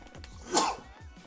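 A single sharp sneeze on a live game stream, one quick burst in the middle of a quiet stretch, close to the microphone.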